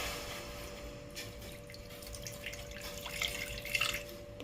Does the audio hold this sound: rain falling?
no